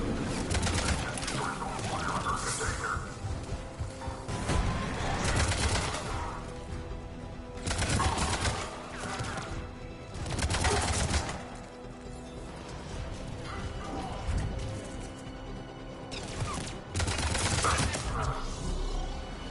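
Rapid gunfire bursts during a firefight at a checkpoint in Mass Effect 3 Legendary Edition, loud clustered volleys of shots recurring every few seconds over a steady battle din, with voices talking in between.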